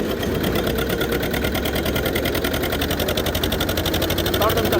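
An old antique Zetor tractor engine, around 70 years old, runs steadily at full speed with a continuous, even mechanical chugging and rattle that stays loud and close throughout.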